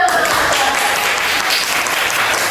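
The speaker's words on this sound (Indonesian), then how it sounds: "Tepuk tangan untuk temannya" Classmates give steady, loud applause in a classroom after a group's presentation, a continuous wash of clapping from start to finish with a faint voice briefly in the background.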